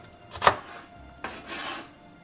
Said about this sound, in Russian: Лук нарезаю тонкими четверть кольцами.